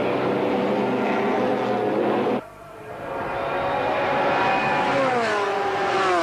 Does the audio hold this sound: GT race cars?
yes